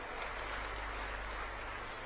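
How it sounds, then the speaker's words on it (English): An audience at the closing plenary of the Global Entrepreneurship Summit 2017 applauds the semifinalists with steady, dense clapping that holds at an even level throughout, with no voices over it. "let's give them a round of applause"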